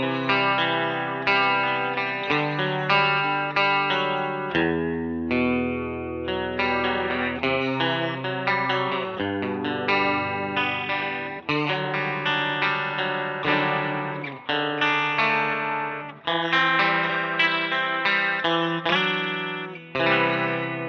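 Guitar through a BOSS CE-20 chorus pedal in standard mode, rate and depth swept wide, a steady run of loud chorused notes and chords with shimmering, wavering tone and no voices.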